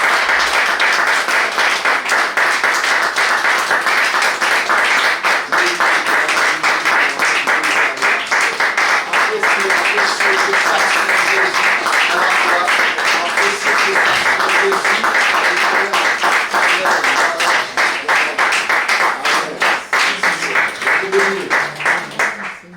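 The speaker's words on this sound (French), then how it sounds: "un tonnerre d'applaudissements pour le Seigneur Jésus." A church congregation claps in a long, loud, continuous burst of applause, steady and dense for over twenty seconds, with faint voices and cheers mixed in underneath.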